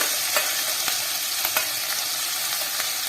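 Ginger, garlic and onion paste frying in oil in a pan while being stirred, a steady close sizzle with a few soft spatula scrapes and clicks throughout.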